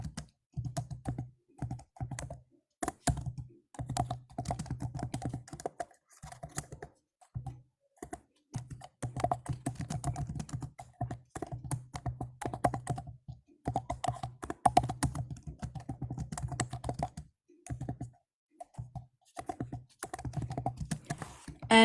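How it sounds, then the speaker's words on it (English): Someone types on a computer keyboard, a close, quiet run of rapid key clicks in irregular bursts with short pauses, keeping on for about twenty seconds. "I just remembered I have to type something."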